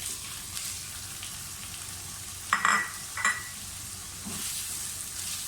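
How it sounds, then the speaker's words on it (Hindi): Minced keema frying with green chilies in a pan, a soft continuous sizzle with two quick clattering scrapes of a spoon near the middle. "हरी मिर्चों के साथ अच्छी तरह से भूनें।"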